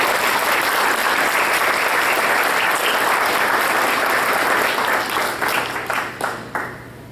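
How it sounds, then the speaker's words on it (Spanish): Strong congregation applause in church, a loud, dense clapping that holds steady, then thins into more distinct claps and fades toward the end. "Vamos a dar un fuerte aplauso a Él."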